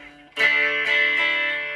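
Electric guitar chords on a 1987/1988 Korean Squier E series Stratocaster, middle and bridge pickups, are struck three times, bright and slightly twangy, each ringing out and sustaining, with no voices.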